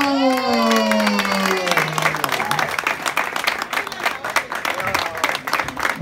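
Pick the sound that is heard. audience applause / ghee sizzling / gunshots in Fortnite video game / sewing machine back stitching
audience applause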